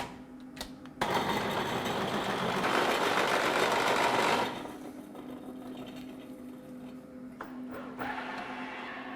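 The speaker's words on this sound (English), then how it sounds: "Cutting aluminium" A machine cutting aluminium in a precision workshop with paraffin as the cutting agent, a steady close whirring drone that swells for a few seconds and then settles to a quieter hum, with no talk.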